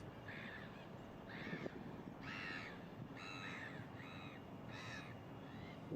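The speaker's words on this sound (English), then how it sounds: "I'm playing a video of a seagull." Seagull calls played back from a video, a run of six or so harsh, evenly spaced squawks over a low background hum, fairly faint and with no talking.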